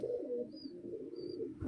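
Pigeons in a loft coo steadily in low throaty rolls, alongside a nesting pair with eggs, moderately close and fairly soft, with faint high chirps twice in the background.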